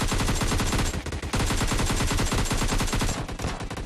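Loud automatic gunfire from the PUBG Mobile Lite video game rattles in rapid continuous bursts, with one short gap partway through.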